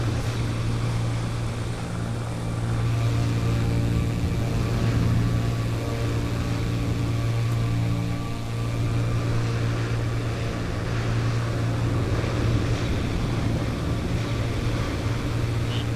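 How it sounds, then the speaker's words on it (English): In the flight simulator MSFS 2024, a steady low engine drone fills the cabin of a small Bonanza propeller plane on a Pacific Northwest mountain run, while the faint sound of a passing jet airliner blends into the background. "I hear a jet, but yet I don't see one right around me."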